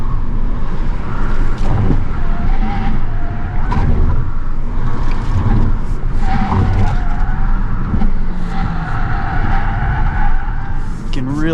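A low-power electric car with 117 horsepower and skinny tires runs an autocross course, its tires squealing and scrubbing continuously through corners over a steady rolling roar, loud and close.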